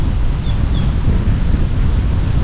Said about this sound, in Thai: ลมทะเลเย็นมาก